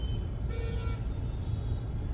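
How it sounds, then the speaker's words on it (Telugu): Busy road traffic near JNTU in Hyderabad on a rainy afternoon: a steady low rumble of engines, with a car horn sounding briefly near the middle. "జేఎన్టీ దగ్గర ట్రాఫిక్."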